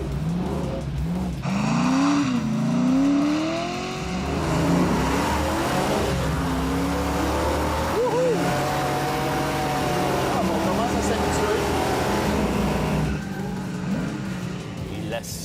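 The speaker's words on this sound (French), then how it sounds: "La sonorité du V8, écoutez-moi ça, mes amis, la mélodie." Dodge Challenger with a 6.4-litre V8 making 485 horsepower revs hard and rises in pitch as its tires skid and squeal while the front end slides, loud and close; a voice talks over the engine at times.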